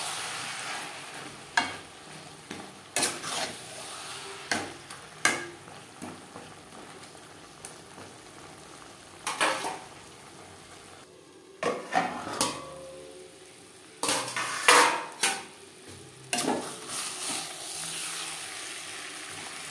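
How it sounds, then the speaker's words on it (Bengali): Mutton liver curry with potatoes and spices being stirred in a pan over low gas, soft sizzling punctuated by repeated scraping strokes and spatula clinks, close and alone. "1-2 বার নাড়াচাড়া করে দেব"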